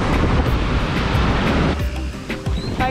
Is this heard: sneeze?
no